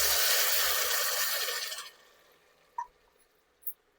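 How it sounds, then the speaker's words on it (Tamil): Water pours into a pan of vegetables and noodles, a steady broadband splash for about two seconds that then stops, followed by a couple of faint clinks. "இப்போது இது வேக்காடுக்கு ஏற்ற மாதிரி தண்ணி ஊற்றிக்கோங்க"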